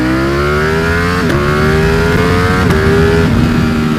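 A Ducati V4 Speciale motorcycle engine roars loud and close, its pitch climbing steadily through several gears, with brief dips at each quick shift, no voices.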